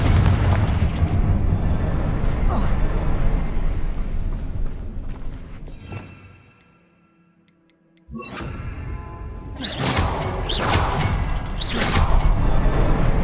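Confringo fire spell blasts in the video game Hogwarts Legacy, heavy booming explosions with crackling debris rolling loud and close, dropping to near silence for a moment before a fresh burst of sharp impacts and rumbling blasts.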